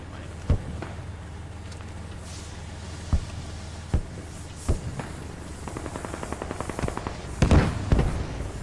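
Gunfire in a tank combat video game: scattered sharp single shots over a steady engine hum, then a rapid burst of automatic fire near the end, with no talking.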